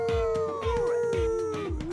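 A performer imitates a long dog howl with the voice, drawn-out wavering tones rising and falling over steady rhythmic low thumps of a backing track, on the set of the 2025 film Dog Man.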